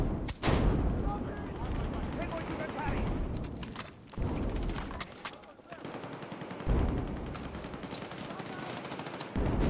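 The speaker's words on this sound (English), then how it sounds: "when I throw a grenade there, okay, they threw a grenade, that grenade went off" Inside a first-person shooter game, a grenade blast booms amid bursts of gunfire and repeated shots, with a player talking over the action.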